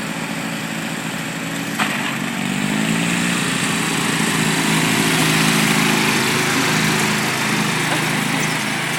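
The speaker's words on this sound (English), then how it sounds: "Lawnmower racing. This is what we do in Palmer." Ride-on lawn mower engines race close by in a loud, steady high-pitched drone that rises and shifts in pitch as the machines pass, with no talk heard.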